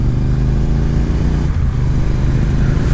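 Bajaj Pulsar 220 motorcycle engine throttled hard: a loud, close, steady roar with a strong low rumble that holds throughout, no talking.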